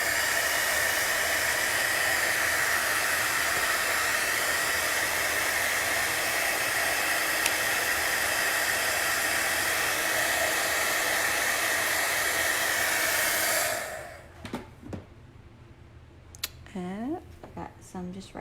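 A hair dryer blows steadily on a beaded craft garland, a loud, even rushing hiss that cuts off abruptly near the end, followed by a few light clicks and handling sounds.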